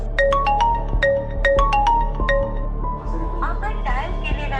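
A phone ringtone plays a repeated bright melodic pattern several times without being picked up, with some faint clinking toward the end.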